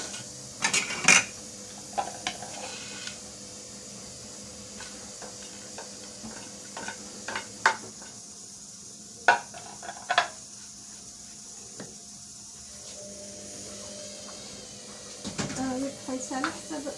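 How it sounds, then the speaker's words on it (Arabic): Onion frying in a pan and stirred with a wooden spoon, heard as quiet, irregular scrapes and clinks over a faint, steady sizzle, with a few sharper knocks at intervals. "غندير البصله شويه تشحر هي الاولى"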